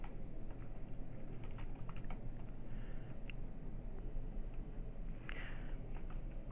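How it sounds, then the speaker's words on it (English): Soft, steady clicking of typing on a computer keyboard, including presses of the Tab key while moving between form fields, with keys tapping in quick irregular bursts and no talk. "Now I'm hitting the Tab key as I enter information to go to the next field"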